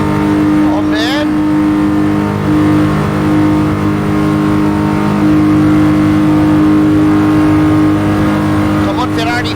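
A Ferrari race car engine in Gran Turismo Sport holds a loud, steady, droning high-rev whine for the whole stretch, with a couple of brief shifting chirps, and people talk over it.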